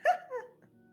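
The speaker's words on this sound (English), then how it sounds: "And Punch growls again" A dog makes a short, close vocal sound, a sharp bark-like yelp sliding into a whine, lasting well under a second against a quiet background.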